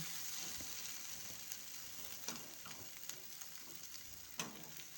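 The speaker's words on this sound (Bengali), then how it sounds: "এবার ভালো করে উল্টিয়ে পাল্টিয়ে আমি এটাকে ভেজে একদম শুকনো শুকনো ভাব করে নেব" Red amaranth greens and lentils frying dry in a pan, a quiet continuous sizzle broken by light scraping stirs and soft utensil taps, no voices.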